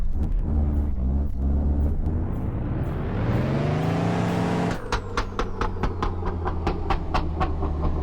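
A Fixo car in the Live for Speed racing game revs up, its engine pitch climbing steadily, then drops off the throttle into a rapid run of sharp exhaust pops and crackles, loud and close.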